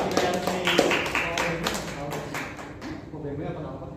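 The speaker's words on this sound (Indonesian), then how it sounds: "Baik, tepuk tangan bagi kayak ini." Classroom applause from a small group of students, a brief run of sharp, uneven claps near the start that thins out into quieter room noise and faint voices.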